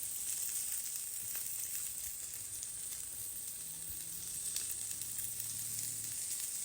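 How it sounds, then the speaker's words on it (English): Big Mac burger patties frying in a pan give a steady, close, even sizzle with soft crackles, a constant hissing texture with no talk over it. "So that's been sizzling away here."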